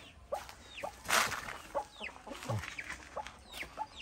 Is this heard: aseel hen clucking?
yes